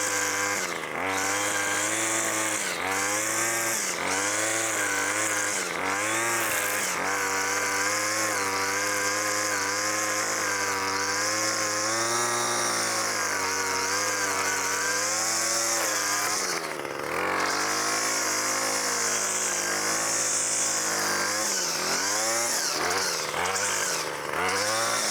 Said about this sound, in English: Get the trusty Craftsman straight shaft trimmer out here